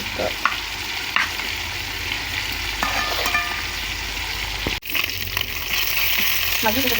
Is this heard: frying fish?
yes